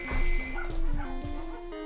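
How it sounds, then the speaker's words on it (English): Dogs bark and yip in short repeated bursts, close and moderately loud, over a steady tonal background. "Dogs are barking."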